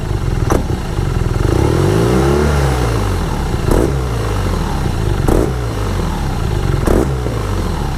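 A 2020 BMW R nineT Scrambler motorcycle engine revs up and down, its harmonics rising and falling in sweeping arcs, with several sharp clattering transients punctuating the loud, steady mechanical noise.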